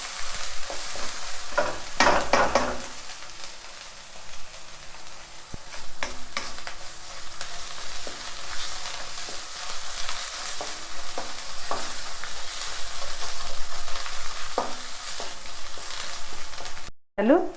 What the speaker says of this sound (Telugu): అల్లం వెల్లుల్లి పేస్టు మంచి పచ్చివాసన పోయే వరకు వేగాలి